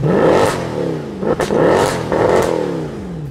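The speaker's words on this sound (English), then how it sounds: "The C63 is one of the best-sounding factory AMG models" Mercedes-AMG C63 with the M156 V8 engine revving repeatedly, several sharp throttle blips rising and falling in pitch, loud and close with a rough mechanical edge and no talk.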